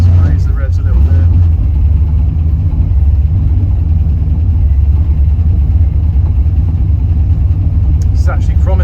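A carbureted LS V8 in a second-generation Pontiac Firebird runs steadily close by, a low continuous rumble held at raised revs, with a person speaking over it.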